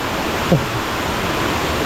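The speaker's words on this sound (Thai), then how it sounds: "ตอนนี้ เราก็เดินมาถึงน้ำตกไกลตึง" Steady, loud broadband roar of Kai Tueng waterfall in Chaloem Rattanakosin National Park, Kanchanaburi, filling the whole clip with constant rushing water close by.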